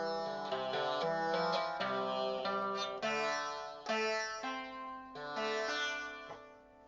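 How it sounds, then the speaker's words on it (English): Bray harp of the 15th century, its strings lightly touched by bray pins, plucked in a steady run of overlapping notes with a buzzing, nasal edge. It plays alone and close, with no talk. "this is the sound of the harp in the 15th century"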